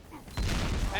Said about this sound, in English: And nice shooting there.